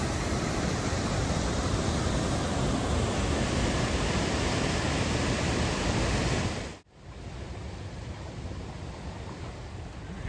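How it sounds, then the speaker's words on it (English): Steady, loud rush of the waterfall at Hidden Falls in a rock gorge, a dense broadband roar filling the clip, briefly cutting out near the end before resuming slightly softer. "It was about a quarter-mile hike up a little rock gorge to this beautiful waterfall."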